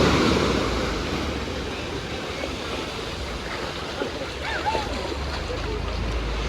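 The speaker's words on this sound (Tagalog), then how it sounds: "Sobrang lakas ng alon." Strong ocean waves at El Nido beach roar and wash continuously up close, a broad rushing surf with a louder surge at the start and another near the end.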